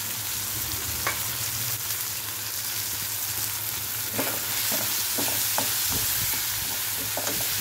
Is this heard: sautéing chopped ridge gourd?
yes